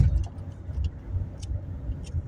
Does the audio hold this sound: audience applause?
no